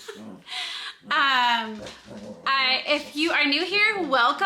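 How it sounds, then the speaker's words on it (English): Playful dogs whimper and yip in the background indoors, high whines rising and falling beneath a woman's steady, close talk. "I'm sorry for the dogs. They're playing."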